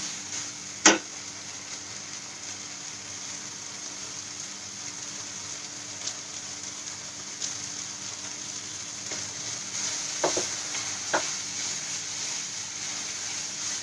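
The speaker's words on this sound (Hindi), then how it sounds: "इसको अच्छे से चलाना है।" Food in a home kitchen pan, just salted, gives off a steady soft sizzle as it is stirred, with a sharp clink near the start and a few faint scrapes and taps later on.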